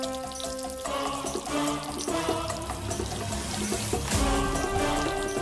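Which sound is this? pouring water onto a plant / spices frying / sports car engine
pouring water onto a plant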